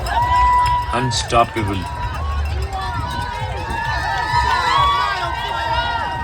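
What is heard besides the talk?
crowd cheering along the New York City Marathon route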